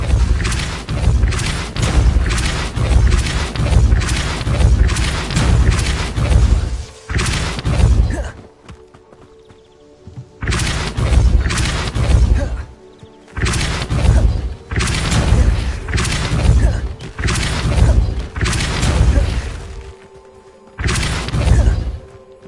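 Depulso spell effects in the video game Hogwarts Legacy: loud, repeated booming thumps and crashing bursts in rhythmic runs, broken by short quiet gaps before each new volley.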